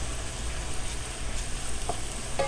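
Mackerel run dung ingredients sauté in a pan, giving a steady soft sizzle with a couple of faint utensil clicks near the end and no voices.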